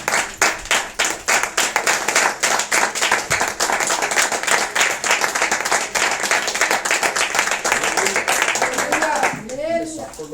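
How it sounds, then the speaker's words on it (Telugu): A worship congregation claps loudly in a fast, steady rhythm that fills the room for several seconds, then fades as a voice speaks near the end. "బిగ్గరగా చప్పట్లు కొడుతూ ఆయన ఆరాధిద్దాం ఒకసారి"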